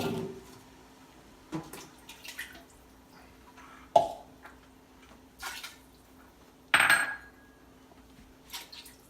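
A spoon stirs Cincinnati chili in a metal pot with beef stock, tomato sauce, vinegar and Worcestershire sauce, giving sparse, sharp clinks and scrapes against the pot, separated by quiet gaps. No talking.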